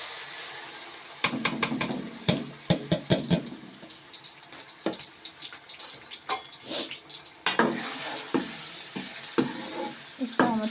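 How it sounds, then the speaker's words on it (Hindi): Mutton liver pieces frying in hot oil give a bright sizzle broken by repeated scraping and stirring with a utensil, close and moderately loud, with no speech. "तो ऑयल जो है हमारा गर्म हो गया है, इसके अंदर जो है ये हम सबसे पहले एक कलेजी डाल देंगे।"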